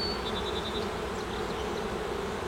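Honeybees in an opened hive colony buzz in a dense, steady drone close by, with a few brief higher whines of individual bees flying near, and no voices.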